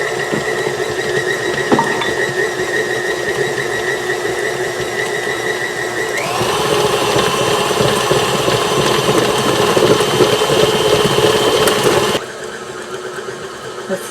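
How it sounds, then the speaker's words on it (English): A KitchenAid stand mixer churns chocolate chip cookie dough with a loud, steady motor whine that climbs in pitch as the speed is raised partway through, then cuts off abruptly near the end, leaving a quieter hum. "KitchenAid mixer does a great job"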